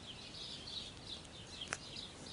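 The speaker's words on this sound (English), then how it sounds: "Birds are loud." Small birds outdoors give faint, repeated high chirps in a steady series over a soft hiss of background noise, with one brief sharp click partway through.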